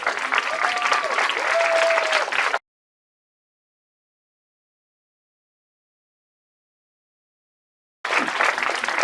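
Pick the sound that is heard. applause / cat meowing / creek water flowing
applause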